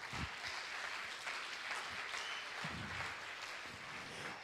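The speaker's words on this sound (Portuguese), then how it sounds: "Quem entendeu isso, deu uma salva de palmas para o Senhor." A church congregation applauds, a dense steady wash of clapping from many hands, moderately distant and continuing throughout.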